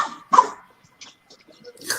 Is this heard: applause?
no